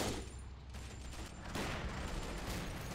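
Rapid anti-tank and small-arms fire in the World War II strategy game Men of War: Assault Squad 2, aimed at a small jeep; a dense, continuous fusillade of distant shots and blasts with no clear pauses.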